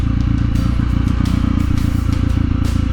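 A Honda CRF 300L dual-sport motorcycle ridden hard over a challenging off-road trail, its single-cylinder engine thrumming in a steady low pulsing drone with rattling clatter and bursts of gravel and brush scraping throughout.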